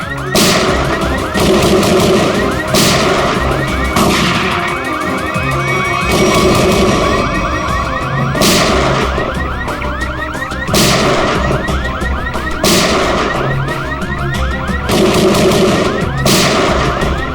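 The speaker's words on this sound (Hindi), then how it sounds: "ये तो कोई अलार्म लगता है, शॉकर अलार्म।" A shocker alarm at a lab whose bursts sound like gunfire: loud, sharp cracking blasts repeat about every two seconds over a steady electronic warble, alone with no talking.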